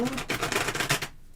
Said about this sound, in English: All right, let's shuffle.